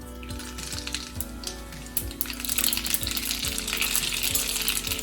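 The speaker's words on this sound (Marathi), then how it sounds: "तेल तापलेले आता आपल्याला ह्याच्यात जिरे मोहरीची फोडणी द्यायची" Cumin and mustard seeds sizzle in hot oil for a pea and carrot chop filling, a steady crackling hiss that swells louder partway through, with soft clinks of utensils near the start.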